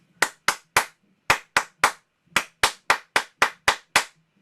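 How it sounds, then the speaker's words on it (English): Crisp, close hand claps beat out a rhythmic pattern in short groups, around fourteen sharp strikes with brief pauses, with nothing else heard. "Just try clapping that with me."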